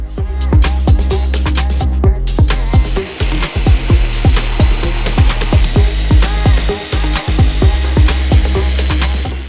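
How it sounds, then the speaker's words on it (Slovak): A metal band saw cuts through square metal tubes, giving off a loud, continuous grinding roar. Rapid rhythmic ticks and clatters run through it without pause. "na to použijeme pásovú pílu na kov"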